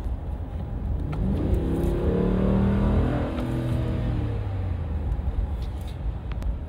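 A truck accelerates nearby, its engine note rising in pitch as it revs up, then settling into a steady, loud drone as it pulls away.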